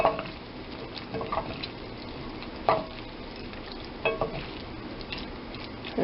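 Haricots verts with parsley tossed in a hot pan: a soft, continuous frying sizzle with several brief clattering shakes and stirring swishes spread through, close by and with no speech.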